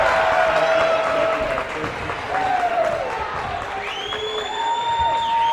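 A high school basketball crowd in the Marion vs Sedgwick game cheers and claps after a steal, a loud sustained roar with whoops and clapping that fills the gym throughout, with commentators talking over it.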